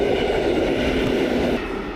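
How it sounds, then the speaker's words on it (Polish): A train rolls past nearby on a rail line beside a route taken on a Duotts C29 electric bike, a loud steady rumble that holds for most of the moment before easing slightly toward the end. "Tu pociągi co chwilę jeżdżą."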